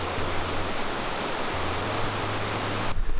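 A waterfall pours into a mountain gorge with a steady, loud, broadband rush of falling water, continuous and close, with no voices.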